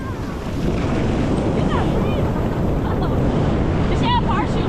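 Ocean waves wash up a beach on the Outer Banks near sand dunes as rain approaches. A steady roar of surf is mixed with heavy wind buffeting the microphone, and faint voices call out in the background.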